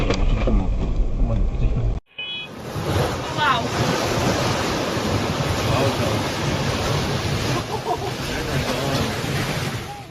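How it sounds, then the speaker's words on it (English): Waves surge and crash continuously against ice, a loud, dense roar with wind noise on the microphone and a faint voice early on. "The sound of the ice breaking under these waves is incredibly satisfying"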